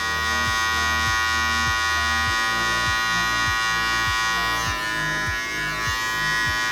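Electric hair clippers cut hair during a home haircut, a close, steady buzzing hum broken by a regular series of short clicking pulses as the blade moves through the hair, with no voices.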